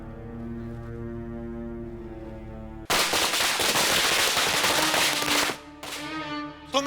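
Firecrackers go off in a dense, loud crackling burst of rapid pops lasting about two and a half seconds, preceded and followed by sustained musical tones in a film scene; no speech is audible.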